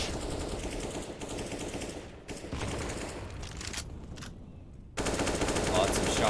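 Dense, sustained automatic gunfire and rapid shots in a Counter-Strike competitive match, loud and continuous with a brief dip before a louder burst near the end.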